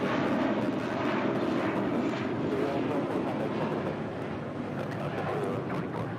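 JetBlue Airways Airbus A321 airliner, six years old, departing LAX for JFK, a steady, moderately distant broadband jet rumble sustained throughout, with faint talk in the background.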